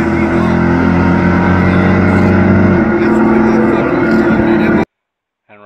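Turbocharged small-block V8 in a 1980 Trans Am with a blow-through carburetor accelerating hard, engine roar rising in pitch then dropping at a gear shift before climbing again, close and loud, then cutting out to silence.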